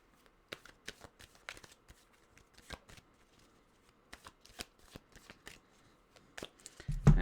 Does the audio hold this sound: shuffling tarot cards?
yes